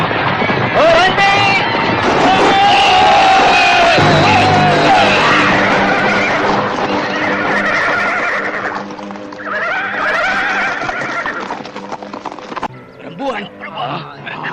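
Horses neigh and whinny loudly while a group rides on horseback, with hoof clip-clops and outdoor rumble beneath, and voices speaking amid the commotion toward the end.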